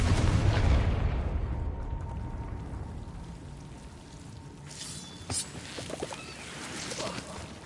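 A Confringo fire spell explodes in Hogwarts Legacy on PS5 with a loud, low boom at the start that fades into a rumbling, crackling tail, followed by quieter bursts of impacts later on.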